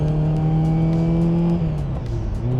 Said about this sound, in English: And that beautiful sound in the engine.